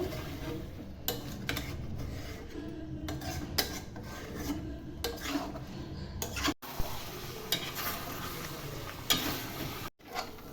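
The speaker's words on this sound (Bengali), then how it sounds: "এদিকে আমি মাংসটাকে কষছি" Meat being stir-fried in a pot on a home kitchen stove, a steady close scraping and rasping of a spoon against the pot over a continuous low sizzle, with brief pauses in the stirring.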